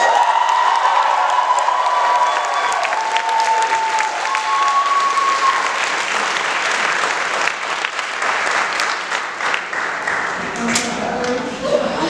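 A crowd applauds the co-chairs at a community event, with sustained clapping mixed with scattered cheers and whoops that continue steadily throughout.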